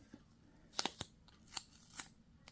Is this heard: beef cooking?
no